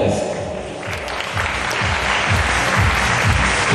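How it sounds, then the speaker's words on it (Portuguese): At a beach bodybuilding championship, a crowd applauds the athletes with loud, continuous clapping while thumping music pulses underneath in a regular beat. "Aplausos dos atletas."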